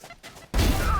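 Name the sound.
gunshot headshot in the video game Valorant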